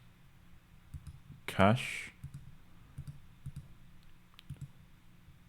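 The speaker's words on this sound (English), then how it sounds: "We'll quickly just type it in on the simulator keyboard here." Quick clicking taps from entering text on a simulator's on-screen keyboard, a scattered series of light clicks under a voice talking, with one louder burst partway through.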